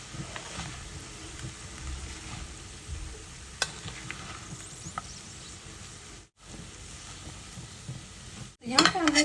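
Poha being mixed with yogurt and fresh coriander in a pan, giving a steady soft scraping and stirring with light clinks of a spoon against the metal, fairly close, with no talking.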